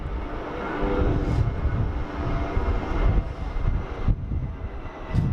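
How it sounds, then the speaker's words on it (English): Jetstar Airbus A320 airliner at Sydney Airport, a steady broadband engine roar that holds loud and continuous throughout, with a low rumble underneath and no talking. "Jetstar A320."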